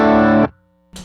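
An electric guitar chord rings through a King of Tone overdrive model on a Tonex, dense and saturated for about half a second, then cut off into a thin ringing decay before a new attack strikes at the end.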